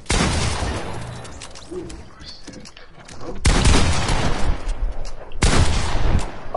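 Shotgun firing in an action video game, loud booming blasts with heavy crackling bursts arriving in clusters, a sharp shot near the middle and another further on, over an agitated voice.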